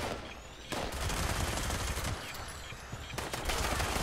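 A bloodied explosive minigun in Fallout 76 fires in loud, rapid, continuous bursts with brief pauses between them, its dense rattling blasts close and overlapping.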